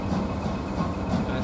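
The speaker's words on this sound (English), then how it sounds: "The northern bound train has just departed." A northbound train departs Kingscote railway station with a loud, steady low rumble and engine drone that fills the whole moment, close by and unbroken.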